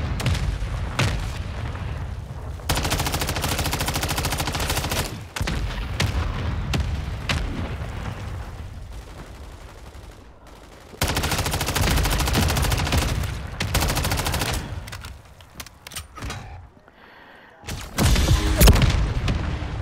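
Mortar strike in a war game, a long run of heavy booming explosions and dense gunfire, loud and continuous in bursts with brief lulls between barrages.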